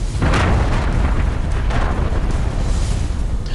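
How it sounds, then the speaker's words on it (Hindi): A loud, deep explosion from a drone strike on an army truck booms near the start, then rolls into a sustained rumbling roar that fills the rest of the clip. "और एक धमाके के साथ सब कुछ तबाह हो गया।"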